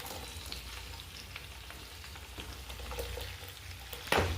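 Cubed onions frying in hot oil in a pan for chilli chicken, a steady close sizzle with scattered crackles and a sharper burst near the end.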